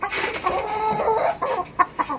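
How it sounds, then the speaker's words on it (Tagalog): Young hen clucking up close, a string of short clucks and soft calls with brief sharp notes near the end, heard alone without talk. "may dumalagang manok"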